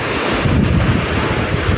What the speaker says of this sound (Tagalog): lalong lumaki na yung alon, lumakas na. Saka yung hangin niya po, hangin bagyo kung tawagin.